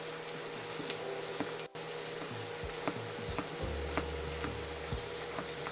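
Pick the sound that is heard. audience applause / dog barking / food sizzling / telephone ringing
food sizzling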